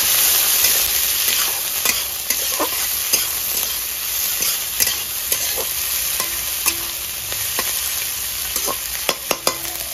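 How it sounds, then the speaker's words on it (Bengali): Chopped onion frying in hot oil tempered with bay leaves, dried red chillies and whole cumin, a steady loud sizzle with scattered sharp clicks and scrapes from stirring throughout, no voices. "দিয়ে দেবো কেটে রাখা পেঁয়াজ। ভালো করে ভেজে নেবো।"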